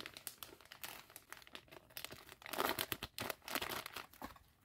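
A protective plastic backing is peeled off a reborn doll kit part, giving close, quiet crinkling and tearing rustles in irregular bursts.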